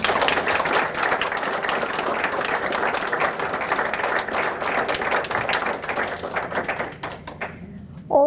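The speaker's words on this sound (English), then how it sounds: "I would like to ask you for one more round of applause for our tremendous speakers." A college lecture audience gives a sustained round of applause for the speakers, dense, even clapping from a large crowd for about seven seconds before it tapers off and a voice begins.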